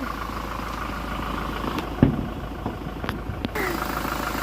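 A 2022 Toyota Hilux V engine idling steadily and evenly at close range, with a few brief clicks and knocks over the running hum.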